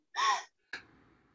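A group breathes in together in a sharp, audible gasp, followed by a short breathy release as the air lets out, with no talking.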